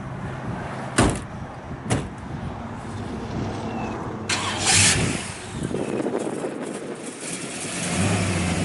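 A 1967 Pontiac GTO cranks and fires up, with a couple of sharp door-like clunks early on before the engine catches and settles into a steady, close rumble.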